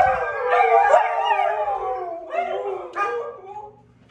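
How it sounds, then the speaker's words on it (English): Dogs howling indoors at night, long rising and falling wails that overlap and then trail off, loud and close, with no talk. "I'm going to correct these dogs as we're talking"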